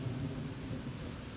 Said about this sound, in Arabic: كلش مطر قوي.